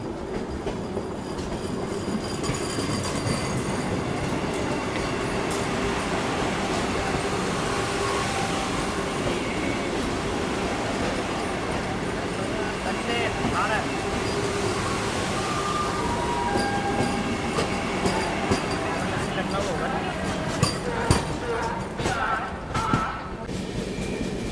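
Saharsa–Amritsar Garib Rath Express (12204) passing Shahjahanpur railway station: a continuous loud rumble of the moving train with wheel clatter and occasional squeals near the end.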